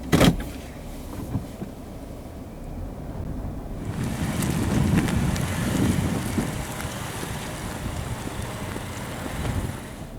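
A 2013 Lexus ES350 on the move gives a steady low road and engine rumble with airy wind noise, heard from inside the car and swelling slightly midway as it gets underway.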